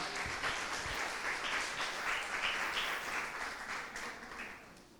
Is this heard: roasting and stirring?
no